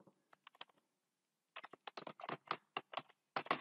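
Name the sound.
typing MATLAB code on a computer keyboard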